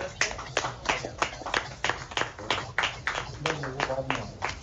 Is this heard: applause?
yes